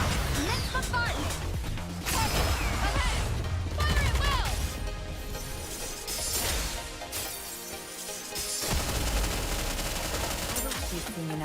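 A heavy bombardment in Goddess of Victory: NIKKE, with crashing impacts and rapid gunfire layered under game sound effects and music. Voices speak over the barrage at times.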